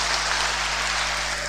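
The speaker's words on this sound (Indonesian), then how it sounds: "Tepuk tangan untuk Probolinggo." Audience applause at a Nuzulul Qur'an commemoration gathering in Probolinggo, a steady dense wash of clapping that fills the whole moment at close range with a constant low hum beneath.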